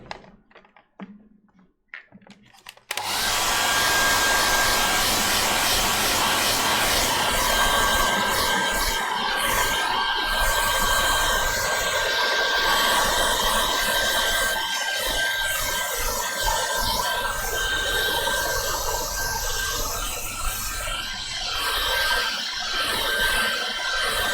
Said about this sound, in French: Mais d'abord, un petit coup de sèche-cheveux.